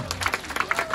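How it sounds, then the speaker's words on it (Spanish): Guests at a quinceañera party in Carrizalito de Trompeteros clap in a short burst of scattered, overlapping hand claps, fairly close and lively, with crowd murmur underneath. "Fuertes los aplausos, oiga."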